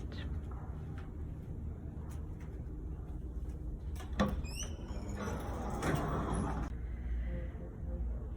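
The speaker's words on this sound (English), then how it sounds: "If you go over to one of the doors, they automatically open and shut." Automatic restroom doors in a public library slide open and shut, a mechanical whir with a click and a soft thud, heard over steady indoor room noise.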